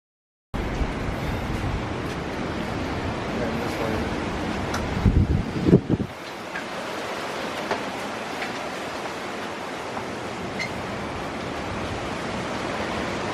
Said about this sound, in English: The wind's coming out of a totally different direction now.